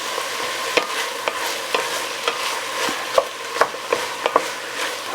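Onions and green pepper cook in a pot for ground beef chili, giving a steady soft sizzle with repeated sharp scrapes and taps of a stirring utensil against the pot, close and alone.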